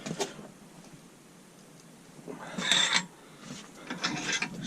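A bench vise being cranked to press an extended Hardrace ball joint into a Ford Fiesta ST hub, giving a few mechanical creaks and a sharp metallic squeal near the middle, then further grinding strain, close and fairly quiet.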